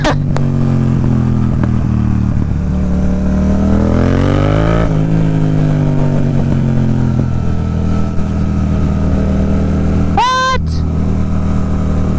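Honda CBR650R and Yamaha MT-07 motorcycles ride together, engines droning steadily close by with rising and falling revs, and a short honk-like burst sounds near the end.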